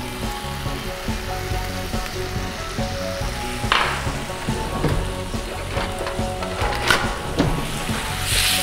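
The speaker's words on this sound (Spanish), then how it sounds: "Añadimos unas semillas de sésamo." Tandoori chicken frying in a pan, with a steady close sizzle throughout and a brief louder crackle as sesame seeds are sprinkled in, followed by a few scraping stirs.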